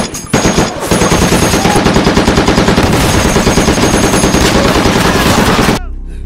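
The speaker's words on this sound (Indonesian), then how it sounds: "John kembali melepaskan ratusan peluru untuk membantai tentara Jepang yang makin mendekat" Sustained machine gun fire in a World War battle scene against Japanese soldiers, loud rapid continuous bursts of shots for several seconds before cutting off abruptly.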